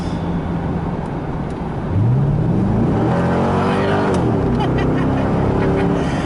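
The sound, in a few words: 2000 Chevrolet C5 Corvette accelerating, transmission kicking down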